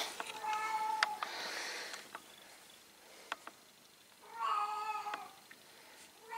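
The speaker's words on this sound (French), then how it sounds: "il y a un chat qui gueule" An indoor cat yowls in two long, drawn-out wailing cries separated by a quiet pause, close and fairly clear.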